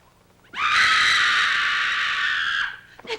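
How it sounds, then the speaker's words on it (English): A woman lets out one long, loud, piercing scream lasting about two seconds, alone and close, in a 1960 horror film. "That was a scream."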